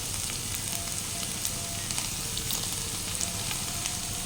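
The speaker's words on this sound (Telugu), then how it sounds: "బాగా వేగుతున్నాయి కాస్త అల్లం వేసుకున్నాం" Ivy gourd slices frying in hot oil with ginger paste, a steady dense sizzle running throughout with occasional crackling pops, close and fairly loud, no voices.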